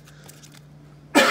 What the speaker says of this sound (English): Man, the coughs are getting to me.